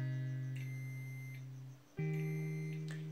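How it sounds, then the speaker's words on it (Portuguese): A multimeter's continuity test beeps close and clear: a long steady tone, then a pitch shift into another sustained beep, with short chirps layered over them. "Esses bips são possíveis através de uma funcionalidade especial chamada de continuidade."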